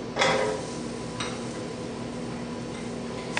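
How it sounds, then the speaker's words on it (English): Onions sautéing in melted margarine in a big pot over medium heat give a soft, steady sizzle, broken by a sharp clatter as they drop in and a few later utensil knocks against the pot. "while that's melting, I'm going to toss in my onions"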